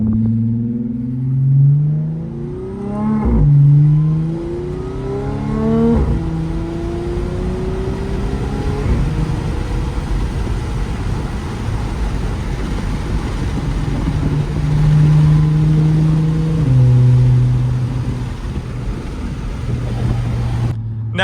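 A 2013 Audi S5 B8.5 with a supercharged engine and AWE track exhaust, loud and close, revving up through rising sweeps, dropping back, then climbing again before settling into a steady drone.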